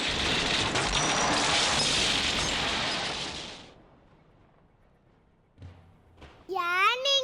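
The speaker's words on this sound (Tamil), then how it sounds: "இந்த ஹோட்டலுக்கு எல்லாரும் பட்டாசு வெடிச்சு கொண்டாடுறாங்க" Dense crackling burst of Diwali firecrackers outside, played as a TV show sound effect for about three and a half seconds, then fading to quiet before a voice speaks.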